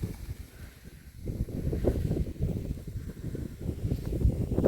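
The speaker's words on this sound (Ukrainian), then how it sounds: "Ох, і вітер руки ріж." Steady low wind rumble buffeting the microphone outdoors, gusting louder and softer throughout with no voices.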